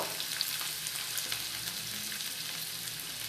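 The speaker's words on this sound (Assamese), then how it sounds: "এতিয়া প্ৰথমে পিঁয়াজখিনি দি ল'ব" Chopped onions fry in a pan as the base for an egg curry, giving a steady, even sizzle that runs throughout with no talking.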